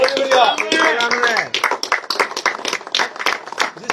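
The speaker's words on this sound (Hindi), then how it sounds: "युवा हौसला बढ़ा रहे हैं तालियां बजा के" Young people clap to cheer on a 50-year-old man taking on a challenge; a voice comes first, then steady rhythmic applause of quick, sharp claps follows.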